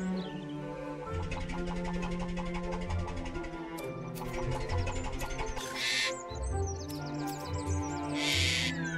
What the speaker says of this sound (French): As-tu vu un autre perroquet, Ethan